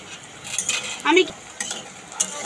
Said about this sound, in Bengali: আমি দেখো এরকম লাল লাল করে ভেজে নিয়েছি, আমি তুলে নিচ্ছি।